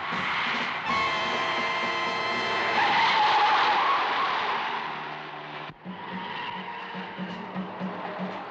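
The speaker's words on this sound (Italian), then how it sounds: "Sono le macchine dei gangster." Cars driven by gangsters in a 1966 crime film skid loudly with sustained tire squeal and engine roar, briefly cutting out before continuing at a slightly lower level.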